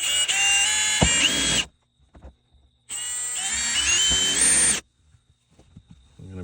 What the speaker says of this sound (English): I'm going to start with drilling a small pilot hole through the plastic, marking the metal A-pillar behind it